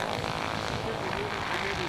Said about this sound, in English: give them a big wave as well with the radial engines going